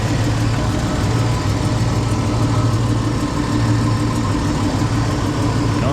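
A Chevy 1500 pickup engine idles steadily after a 4L60 transmission service, a close, even low rumble with a faint periodic pulsing and no voices over it.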